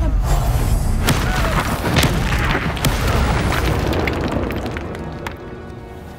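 A booming Expulso explosion spell from Hogwarts Legacy: a loud, heavy blast with rumbling low end and scattered debris-like cracks, fading gradually over several seconds with faint in-game voice nearby.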